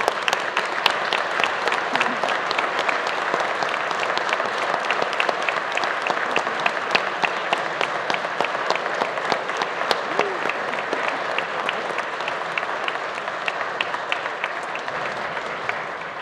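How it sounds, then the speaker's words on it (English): Legislators in a state House chamber give a long round of applause for Nico Hernandez, sustained even clapping from many hands lasting about sixteen seconds without a break. "Let's give Nico Hernandez a round of applause"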